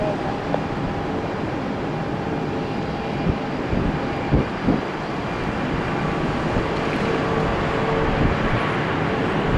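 A plane taking off from runway 1 right at Tampa International makes a broad, steady engine roar that swells slightly over nearly ten seconds, heard from a distance with no clear voices.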